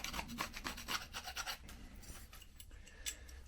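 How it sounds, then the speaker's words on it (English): A steel scriber rasps across 80CrV2 steel, a close run of quick scratching strokes, fading into quieter scraping. "Scratch a line the other side."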